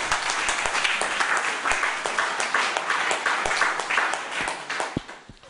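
Congregation applause during a French-language sermon, a loud, dense round of many hands clapping that stays steady for several seconds, then tapers off, with no speech.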